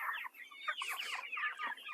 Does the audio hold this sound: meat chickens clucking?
yes